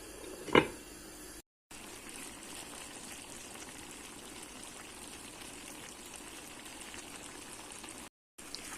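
Cabbage rolls (lahana sarması) simmer in a covered pot, giving a soft, steady bubbling hiss. One sharp clack sounds near the start.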